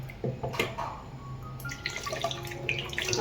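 Water poured into a bowl of strained rice batter, a soft running, splashing trickle lasting a few seconds, close and fairly quiet.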